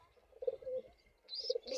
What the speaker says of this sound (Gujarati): જોઈ શકો છો આપણે કબૂતર આવી ગયા પાણી પીવા.